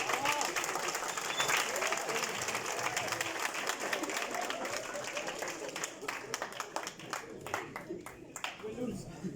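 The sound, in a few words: audience applause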